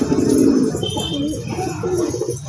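On a rooftop a wild pigeon gives soft, throaty cooing, a few low rolling calls at moderate volume close by, with no voices.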